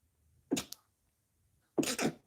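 Two close sneezes about a second apart, each a sharp burst with a quick catch of breath, otherwise quiet.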